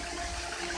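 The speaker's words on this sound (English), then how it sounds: "Just the sound of water is magic." Brief burst of rushing, flowing water, a steady broadband gush heard up close with no voices.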